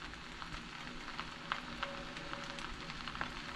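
Shrimp frying in a hot pan for vegetable fried rice, giving a steady, quiet sizzle with occasional small pops and crackles and no talking.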